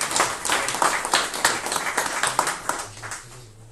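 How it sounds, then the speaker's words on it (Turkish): An audience claps for a painting at a poetry event, a lively, close burst of uneven handclaps that thins out and fades toward the end. "Alkışlayalım bu tabloyu."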